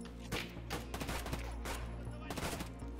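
Rapid gunfire from the video game Escape from Tarkov, several sharp bursts of automatic shots in quick succession over a low steady hum, moderately loud and close.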